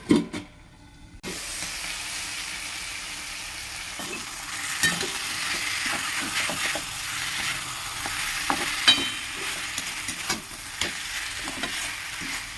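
Amaranth greens with poppy seeds sizzle and hiss as they fry in a pan, with a spatula scraping and tossing them in irregular strokes over the steady crackle, close and with no talking.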